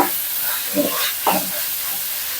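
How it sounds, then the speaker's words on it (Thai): Beef sizzles and hisses steadily in a hot wok for a Thai basil stir-fry, with two brief scraping stirs standing out over the continuous close frying noise. "เราก็มาลงมือพัดกันครับ พัดให้เข้ากันก่อนครับ"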